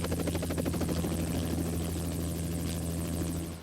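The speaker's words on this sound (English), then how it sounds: "Shinzo Abe was transported by a medical helicopter to a hospital." A medical helicopter flies nearby with a loud, steady rotor thump and engine whine that stays constant through the whole short stretch, with no voices.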